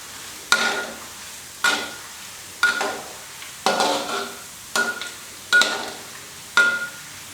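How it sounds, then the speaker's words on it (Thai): Pepper-marinated pork fries slowly in garlic-infused oil with a steady low sizzle, broken by regular scraping strokes of a utensil roughly once per second. "ค่อยๆทอดไปเรื่อยๆนะครับเดี๋ยวมันจะไม่กรอบ"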